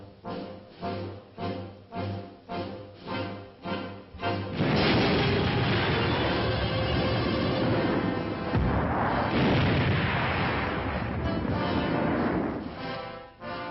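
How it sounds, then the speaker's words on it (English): A simulated atomic explosion set off during early-1960s West Point army summer training: after a run of rhythmic pulsing booms, a loud sustained roaring blast rumbles on for several seconds before fading. "All of us wait for the simulated atomic explosion, which will signal the beginning of the day's advance."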